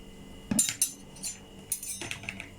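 Apple crumble filling with corn flour and lemon juice is stirred in a bowl, giving a few sharp metallic clinks and scrapes of a utensil against the dish with quiet pauses between.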